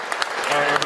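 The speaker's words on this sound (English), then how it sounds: "give yourself a round of applause" An indoor audience at a community event claps in a dense, steady burst of applause, close and moderately loud, for just under a second.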